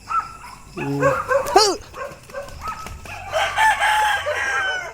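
Chickens cluck and a rooster crows close by, mixed with a dog barking and other farmyard calls in quick succession.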